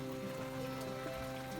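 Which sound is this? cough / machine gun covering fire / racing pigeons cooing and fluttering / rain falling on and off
rain falling on and off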